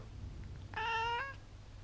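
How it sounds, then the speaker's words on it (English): A white cat gives a single clear, drawn-out meow lasting about half a second, close by over a faint low background hum. "that's the white cat"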